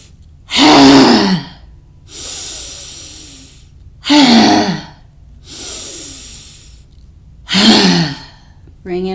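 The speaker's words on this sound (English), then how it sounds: "it's a deep inhale in, aha, out with the tongue out" Deep yoga breaths during a strength class: three strong exhales with the tongue out, each followed by a softer breath in, close and loud with pauses between.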